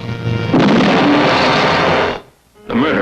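Artillery fire in a 1970 ABC television preview booms out loud and continuous, a dense roar of blasts that cuts off briefly before resuming with a wavering tone.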